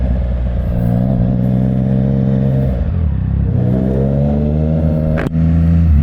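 A Triumph Trident 660 motorcycle engine drones loudly and rises in pitch as it speeds up on an expressway at night, then shifts and climbs again, with a steady roaring exhaust note throughout.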